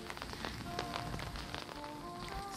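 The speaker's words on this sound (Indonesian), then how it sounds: "Hujan." Rain falls steadily on surfaces near a village food stall, a dense, constant patter with scattered sharper drops, faint and continuous with no voices.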